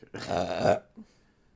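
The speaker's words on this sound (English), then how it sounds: "This gives really nice burps." A single loud, close burp after drinking Bullet Bourbon lasts about two thirds of a second and is followed by a short faint grunt.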